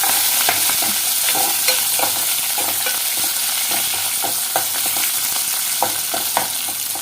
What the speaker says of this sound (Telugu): ఉల్లిపాయలు వేగినాయి కదా